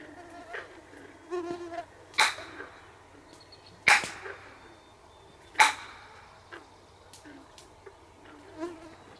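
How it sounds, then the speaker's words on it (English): Three sharp, loud knocks of a bat striking a tree ring out at even intervals, echoing outdoors with insects buzzing and faint background noise. "We're gonna do a tree knock, see if we get a response."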